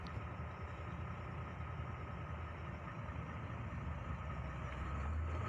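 A UD Quester CWE 280/370 truck with a low-power fault drives on a test run, its diesel engine giving a steady, loud, continuous low rumble with no pauses and no voices.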